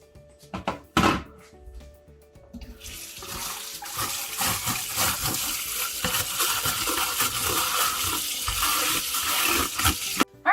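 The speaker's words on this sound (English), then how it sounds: "you're gonna wanna take it for a final rinse in the sink" Tap water pours and splashes in a sink while fan parts are rinsed, preceded by a few thunks and clatters of handling, then a steady gushing flow that runs to the end.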